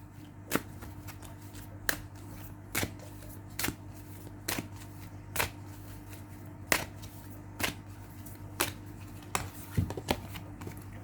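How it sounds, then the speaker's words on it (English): Tarot advice cards are shuffled in a steady series of crisp riffles, each sharp flutter spaced about a second apart over a constant low hum, with no voices present. "So let's get advice cards for you."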